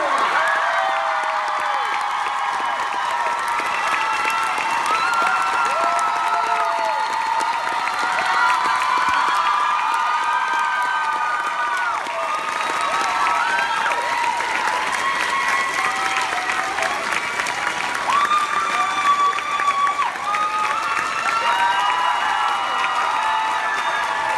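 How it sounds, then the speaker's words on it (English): Convention audience at Sherlocked USA 2017 applauding Steven Moffat, Mark Gatiss and Sue Vertue: a large crowd clapping continuously with cheers and whoops rising above it, loud and sustained throughout. "Please give a warm round of applause to Stephen Moffat, Mark Gatiss and Sue Burchell"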